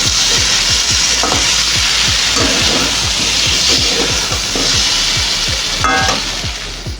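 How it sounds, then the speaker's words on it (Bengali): Taro, potato and prawns stir-fried together in a pan in a home kitchen. A spatula scrapes in a steady, repeated rhythm over a constant loud, close sizzle, with no talking. "এদিকে কচু আলু চিংড়ি মাছ একসাথে দিয়ে কষাচ্ছি।"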